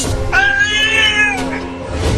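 A cartoon cat gives one loud, drawn-out meow that rises then falls, close and clear over a steady background hum, in a Hindi comedy cartoon.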